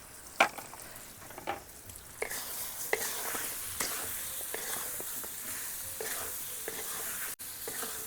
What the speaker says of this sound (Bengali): দিয়ে এইভাবে 5 মিনিট নেড়ে নেব ভালো করে, যাতে চিনিটা এর মধ্যে ভালো করে মিশে যায়।